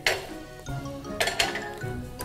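Wok and pans clatter in a home kitchen while preparing to fry beef for a spicy sambal dish, with scattered metallic clinks and clanks, a sharp bang near the start and another cluster midway, close and moderately loud.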